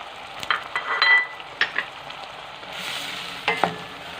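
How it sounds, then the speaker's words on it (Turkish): Onions sautéing in melted butter for a summer green bean vegetable dish, a soft steady sizzle with brief louder spatters and stirring scrapes, close by and with no voices. "Soğanımızı kavuracağım."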